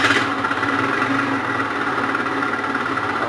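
A GY6 scooter engine idles with a constant, loud mechanical rattle and buzzing drone, steady throughout with no speech.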